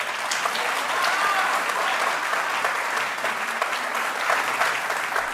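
Studio audience applauding at a televised courtroom-style talk show, a dense, steady wash of clapping that holds at full strength throughout with no speech over it.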